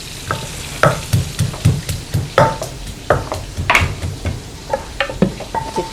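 Garlic is pounded in a mortar with a pestle, a series of close, uneven thuds and knocks about twice a second, some with a ringing clink, with no talk over them.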